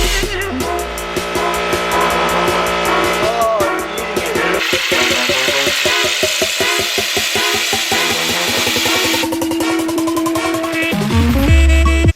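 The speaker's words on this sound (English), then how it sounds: "I'm going to take it and I'm gonna try to cut into this apple" A DIY fidget spinner fitted with razor blades whirs steadily as it cuts into an apple, producing a rapid buzzing, rasping grind that shifts in pitch and fluctuates, fairly loud and close.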